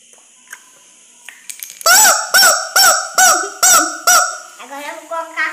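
A chicken lets out a run of six loud, honking squawks in quick succession while being squeezed, preceded by faint clicks and followed by softer squawks.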